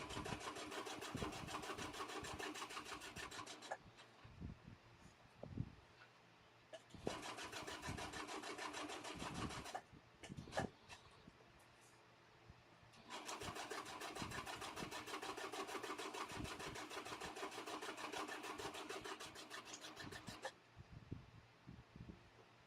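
Sewing machine stitching around the edge of a napkin, its fast steady mechanical whir running in three separate bursts with short quiet pauses between them.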